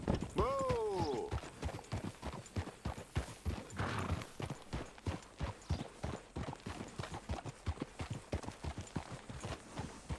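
A horse in a video game trots with a steady clip-clop of hooves, opening with a brief whinny, the rhythm continuing evenly and close throughout.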